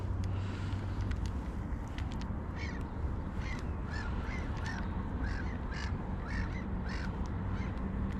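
Seagulls call in short, repeated squawks over water during spinning-rod trout fishing, moderately distant and set against a constant broadband rush of flowing current and wind.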